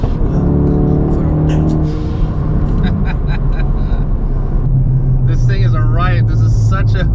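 A SEMA-built Ford Focus RS engine hums and rumbles steadily while driving, heard beneath continuous talking and some background music.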